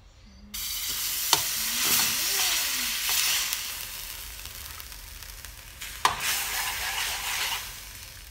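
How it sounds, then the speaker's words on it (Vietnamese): Coconut milk sizzles and hisses in a hot pan while being stirred, a loud continuous fry with occasional clatter of the utensil against the pan and a short faint voice early on. "Nhà chảo nóng rồi, cái mình bỏ nước cốt dừa vô."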